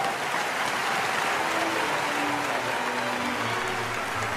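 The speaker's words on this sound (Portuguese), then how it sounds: "Aplausos, por favor!" An audience at the Vinewood Awards ceremony applauds in a dense, continuous patter of many hands, steady and full like rain, with no talking over it.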